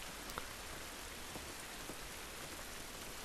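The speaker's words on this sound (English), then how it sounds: "It's raining." Steady rain falling on surfaces in The Last of Us video game, a soft even hiss with a few distinct drops, continuous and fairly quiet.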